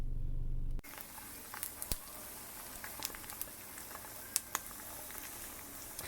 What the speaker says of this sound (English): I got my egg frying this morning